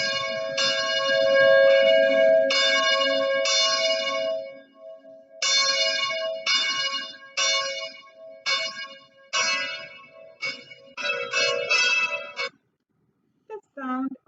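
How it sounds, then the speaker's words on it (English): Repeated church bell strikes ring out in a steady series, each tone lingering with rich overtones, sounding somewhat distant and reverberant. "the sound of the church bell ringing in the distance"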